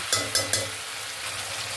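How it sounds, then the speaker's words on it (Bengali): Cabbage dropped into a pan of sizzling fish heads and potatoes: three quick soft thuds with hissing bursts, then a steady, close frying sizzle. "এবার এখানে আমি দিয়ে দেবো বাঁধাকপি"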